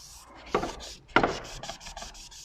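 Rubbing at a sticky patch on an aluminium longarm machine carriage, heard as two firm scrubbing strokes followed by lighter, quicker rubs, close and with no speech.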